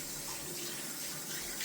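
Cold water runs from a bathroom sink tap during a wet shave, a steady close hiss that holds unbroken and fairly soft throughout.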